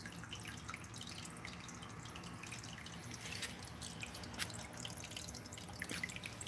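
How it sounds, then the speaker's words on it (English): Water trickling and dripping over a lagoon overflow into the emergency outlet, giving a small waterfall effect; a steady, soft splashing with scattered drips, moderately close and alone. "you can hear the waterfall effect"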